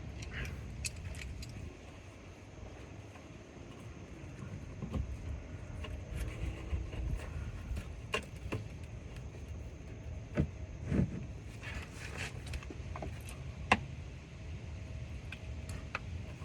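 Metal tool clinks and scrapes against the oil drain plug underneath a 2011 Lincoln MKZ Hybrid, with scattered sharp ticks over a low steady hum, close by and fairly quiet.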